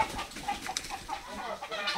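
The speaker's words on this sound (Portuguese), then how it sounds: "Tá espantando as galinhas tudo?" Chickens cluck and squawk in agitation after a dog frightens them outdoors, a busy, fairly faint scatter of calls with no talk.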